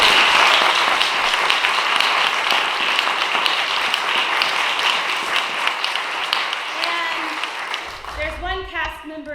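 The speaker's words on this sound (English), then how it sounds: "let's another round of applause for the amazing." An audience applauds at a school bicentennial performance in a church hall, dense, sustained clapping that fades toward the end as a voice begins speaking.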